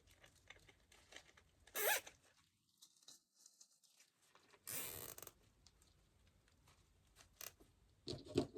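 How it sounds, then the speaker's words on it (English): A plastic zip tie is pulled tight through its own locking head, giving a few short, close ratcheting zips spaced several seconds apart in a quiet room. "take my zip tie and feed it around through the back"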